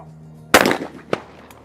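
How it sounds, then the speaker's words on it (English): A shotgun fires a single loud, sharp blast at a clay target in a men's trap shooting final at the ISSF World Cup in Lima, Peru. A smaller crack follows about half a second later, then the sound quickly dies away. "And Main hits the target"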